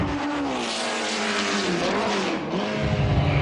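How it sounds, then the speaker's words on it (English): A 1967 Formula One race car with a Cosworth engine roars close by at high revs, its pitch sweeping up and down through gear changes in a continuous loud, raspy howl, with no voices heard. "What a lovely sound from that Cosworth engine."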